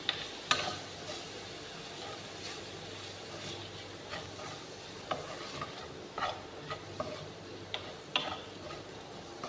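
Chicken igado is stirred in a pan, making soft sizzling with repeated scraping and clicking strokes of a utensil scattered throughout. The sound is quiet and close, with no speech.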